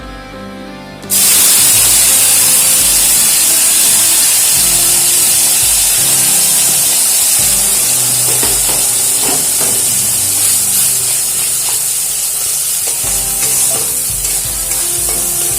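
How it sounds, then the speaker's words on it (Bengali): After a second of quiet, a loud hissing sizzle bursts up as a spice paste hits hot oil with whole garam masala, bay leaf and dried chilli in a pan, then holds a dense, steady roar with light stirring scrapes and no talking. "এবারে গ্যাসের ফ্লেমটা লোতে রেখে মশলাটাকে খুব ভালো করে ভেজে নেব"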